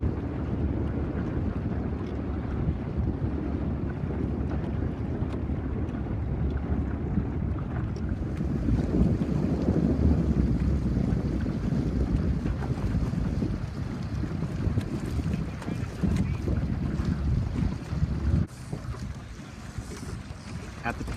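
Steady north wind buffets the microphone aboard a C420 sailing dinghy racing on flat water, with continuous rushing gusts, hull and water noise, and faint voices in the background.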